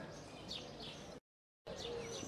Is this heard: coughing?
no